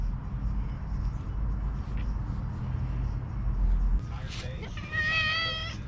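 A cat meows a few times near the end, clear harmonic cries over a steady low rumble from a workshop, following a stretch of background noise.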